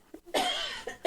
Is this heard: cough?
yes